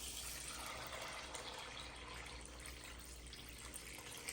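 Water pours steadily into a Saladmaster pot holding organic black beans, a soft continuous gushing fill with no talking over it.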